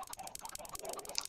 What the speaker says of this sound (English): Chicken stampede.